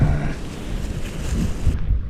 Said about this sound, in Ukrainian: Вітер просто скажений.